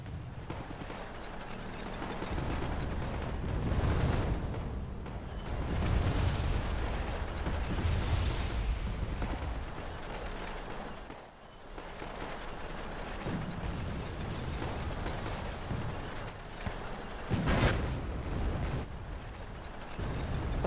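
Artillery and gunfire from a unit shooting at Marines in the Wargame: AirLand Battle strategy game, a dense run of booms and bursts over a constant low rumble, with a sharp blast near the end.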